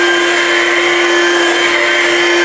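Ryobi 18V ONE+ cordless hand vacuum with powered brush bar running steadily on its battery, a close, loud continuous motor whine with a strong steady tone, unbroken and alone without talk.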